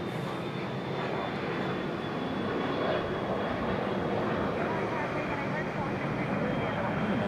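A Southwest airliner departing Raleigh-Durham International Airport makes a steady, broad jet-engine roar that holds constant the whole time, a little distant but loud, with a faint whine on top.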